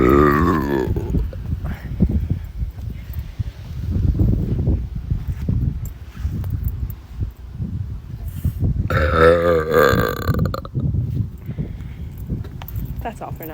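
Someone lets out a string of long, croaky burps outdoors near a beach, trying to keep them quiet, loud and close, with rustling and speech-like sounds between them.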